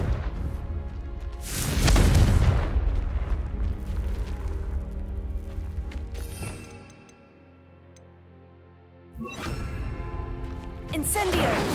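Fiery explosions from a Confringo spell in Hogwarts Legacy burst loud and close, with a big boom near the start, crackling debris, a quieter lull, then further blasts toward the end.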